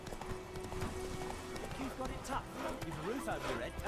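Roach, a horse in The Witcher 3, clip-clops along in a steady galloping rhythm of hoofbeats, with someone talking over the game sounds throughout.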